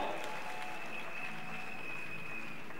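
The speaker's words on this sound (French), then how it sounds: "Acclame très fortement" A church congregation applauds loudly during a sermon, a dense, steady wash of clapping that continues for a few seconds without a break.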